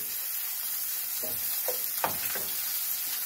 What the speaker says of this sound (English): The cheese, you guys can see, is starting to fry. It is frying, not starting.